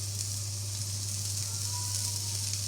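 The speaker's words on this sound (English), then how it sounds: "The hot plate is nice and hot, so we're going to take one of the patties and just set it down there for a second." A burger patty sits on a hot plate and gives off a loud, continuous sizzle and hiss at close range, with a steady low hum underneath.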